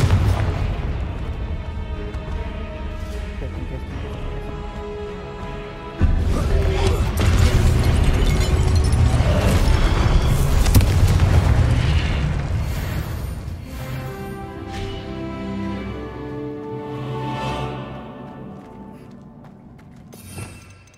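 Confringo fire spells blasting in the Hogwarts Legacy game, with loud booming explosions and crashing impacts layered over game music, the heaviest burst rolling on for several seconds before fading.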